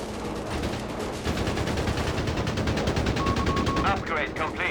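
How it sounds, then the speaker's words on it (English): Rapid automatic gunfire in the video game Company of Heroes 3 from commandos' Sten guns, a dense continuous rattle of shots under an English commentator's voice. "calling in some commandos with their Sun and Sten guns"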